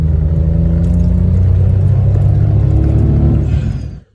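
A modified Citroen C1 accelerates with a loud, steady, droning engine hum and road rumble, heard up close and continuous, then cut off abruptly at the end.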